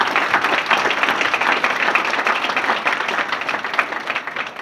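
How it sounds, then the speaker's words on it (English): Enthusiastic applause from a crowd at a university hall of fame induction ceremony, loud and sustained rapid clapping with a few sharper claps, slowly easing toward the end. "Round of applause"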